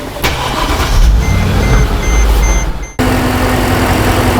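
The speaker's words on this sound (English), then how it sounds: "let's go ahead and start this vehicle up" A 2010 Mercedes-Benz GL450 with a lean fault on both banks cranks and starts, the loud churning engine noise dropping briefly before settling into a steady close idle hum.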